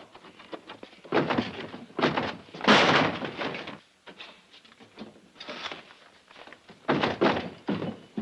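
Heavy pounding on a locked door in a classic horror film, repeated loud thuds arriving in irregular clusters with short pauses between them, close and forceful, with no talking.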